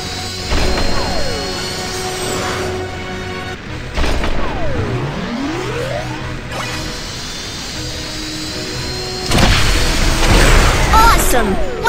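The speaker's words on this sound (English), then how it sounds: "3, 2, 1, blast off!" A cartoon rocket launches in a preschool learning game: rising whooshes and sweeping tones over a busy game soundtrack, with a louder burst of roaring thrust near the end.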